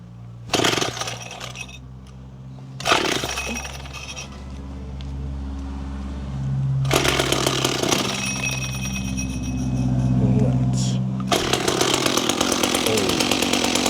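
Weed whacker motor cranked from a cold start: two short pull bursts, then it catches and runs loud and steady with a droning whine that rises and falls with the throttle, close by.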